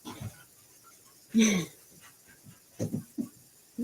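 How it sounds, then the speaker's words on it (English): Dogs come in through a door, giving a few short, soft breathy puffs and snuffles with quiet gaps between them, close by in an indoor room. "And the dogs are coming in the door."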